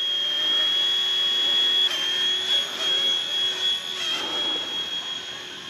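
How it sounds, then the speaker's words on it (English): A C138 RC helicopter flying close by, giving off a steady, high-pitched motor whine with slight wavers in pitch as it manoeuvres, heard alone. "this is literally my second time flying an RC helicopter"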